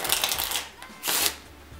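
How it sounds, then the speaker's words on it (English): Two quick bursts of crisp riffling and fluttering, like cards being shuffled close by, with a brief pause between them and no talking. "I would like you to give the deck a really, really good shuffle."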